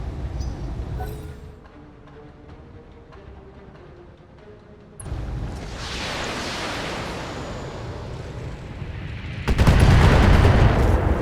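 BattleTech mech combat in a video game, with weapons firing and heavy impacts building into a loud, dense roar of gunfire and booms near the end.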